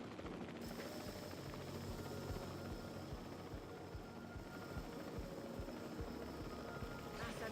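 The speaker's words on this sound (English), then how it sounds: "Did we really need a helicopter for that guy?" In the video game Jurassic World Evolution 3, a helicopter carries a dinosaur through the air, its rotor and engine roaring as a steady, dense whir that holds throughout at moderate loudness, with no voices.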